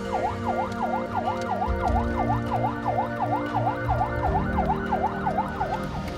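An ambulance siren wails loud and steady in a rising-and-falling pattern, repeating quickly over the hum of road traffic as it is escorted through congested streets.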